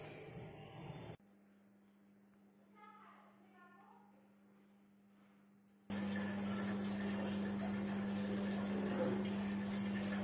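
A Samsung fully automatic top load washing machine takes in water through its inlet, with a steady mechanical hum that runs throughout. The water rush grows much louder and broader partway through, and quiet voices are faintly present.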